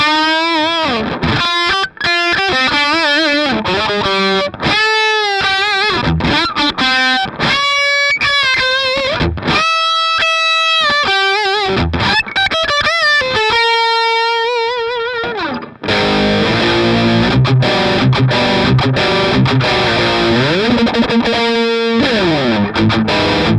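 An electric guitar played through a Two Notes Le Lead preamp with a heavily distorted lead tone, sustained bent notes and fast runs, then a denser chugging rhythm section, loud and close with no talking.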